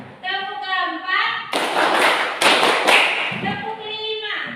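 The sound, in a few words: class clapping in a counted clap pattern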